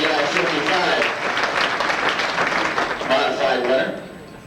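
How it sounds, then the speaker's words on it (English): Audience at a 1993 St. Louis auto racing fan club awards banquet claps for a modified-class winner, a full crowd of hands rattling steadily for several seconds before tapering off near the end. "Give John a nice round of applause, ladies and gentlemen."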